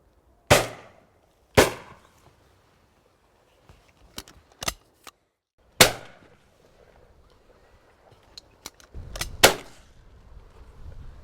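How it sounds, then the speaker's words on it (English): Shotgun shots ring out while pigeon shooting over oilseed rape, five or six loud, sharp reports spaced a second or more apart, with fainter clicks and handling noises between them. "Now this is more like it, fast-paced shooting"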